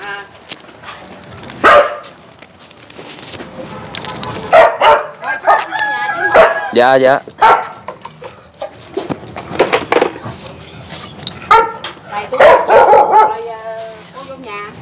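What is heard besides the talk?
dog barking while being fed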